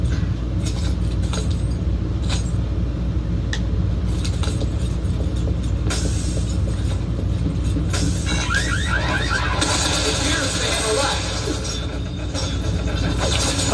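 A moving train in an Xbox 360 third-person shooter gives off a continuous loud rumble with metallic rattles, clinks and occasional high squeals over a steady low roar.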